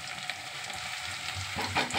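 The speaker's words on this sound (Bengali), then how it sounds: "এই যে পেঁয়াজ ভাজা চলছে" Onions and green chillies fry in a pan with a steady, close sizzle throughout, swelling a little louder near the end, with no voices.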